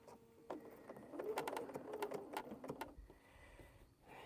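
A sewing machine stitches quilt strips together, giving a faint run of quick mechanical clatter that speeds up in the middle and then slows and fades, with quiet room noise around it.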